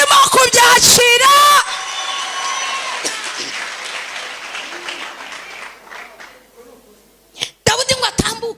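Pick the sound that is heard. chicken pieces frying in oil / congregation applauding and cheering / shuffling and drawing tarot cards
congregation applauding and cheering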